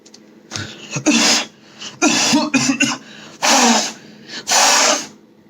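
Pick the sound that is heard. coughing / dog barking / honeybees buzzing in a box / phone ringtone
coughing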